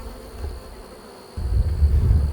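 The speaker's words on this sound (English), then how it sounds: "this colony here is going to be blowing and going" Honey bees buzz steadily in a colony from a purchased nuc, a continuous close hum that swells louder partway through as the frame is worked.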